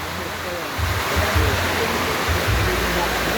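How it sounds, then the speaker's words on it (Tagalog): Dense, steady broadband hiss of a heavy downpour, with low rumbling bursts underneath. "Grabe lakas ng ulan."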